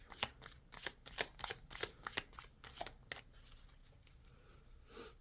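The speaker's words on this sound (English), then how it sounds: "Let's give these a good shuffle." Tarot cards are shuffled close up in a quick series of riffling bursts, then a softer shuffle trails off.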